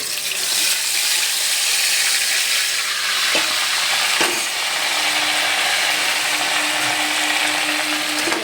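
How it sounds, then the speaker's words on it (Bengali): Loud, steady sizzling of chicken kebab pieces frying in hot white oil, continuous and close, with occasional scraping clicks from stirring. "সাদা তেলেই এরমভাবে আমি নেড়ে যাব"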